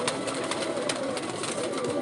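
Pigeons coo softly and repeatedly in a loft, faint calls set against steady broadband background noise and no one talking.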